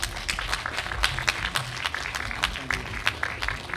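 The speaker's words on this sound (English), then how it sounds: "Let's have a round of applause." An audience applauding at a Glastonbury speakers forum conversation, a steady patter of many hands clapping at moderate distance without a break.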